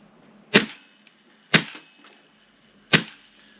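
Tokyo Marui MWS airsoft gun firing BBs, three sharp single shots about a second apart, each a crisp snappy crack with a short decay and quiet pauses between.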